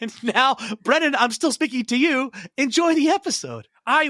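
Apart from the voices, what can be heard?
No distinct noise like a dog, phone or traffic.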